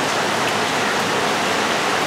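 Steady rain falls by a natural river during a tilapia fishing trip, a dense, even hiss of drops close by, loud and continuous with no talk.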